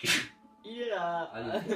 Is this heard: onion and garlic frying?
no